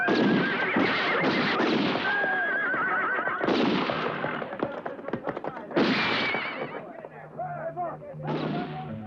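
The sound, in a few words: horses neighing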